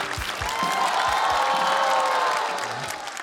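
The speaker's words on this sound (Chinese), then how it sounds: "感谢大家热情的掌声啊" A stand-up comedy audience claps and cheers for a few seconds, a dense, loud wash of applause that swells and then tapers, with a brief voice underneath.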